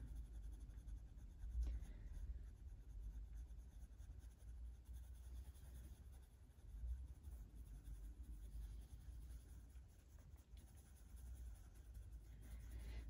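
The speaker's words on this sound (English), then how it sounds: "I really enjoy colouring these in the paper" Colouring pens or pencils moving across paper, heard as a faint, continuous scratchy rustle of strokes over a low background rumble, with no talking.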